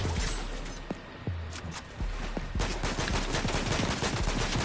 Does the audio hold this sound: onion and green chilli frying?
no